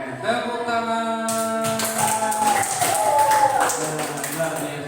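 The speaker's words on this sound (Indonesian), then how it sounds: "Tepuk tangan." Children in an Indonesian primary school classroom clap their hands together in a burst of sharp, quick claps mixed with voices and chatter.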